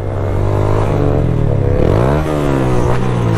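Motorcycles rev hard at a wheelie stunt riding event in Morada Nova, Ceará, engines rising and falling in pitch close by, with a loud, continuous roar and no talk over it.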